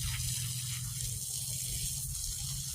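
Water poured onto a tree's root ball on a slope, a steady trickling gush with a low rumble underneath, continuous and fairly close, with no talk.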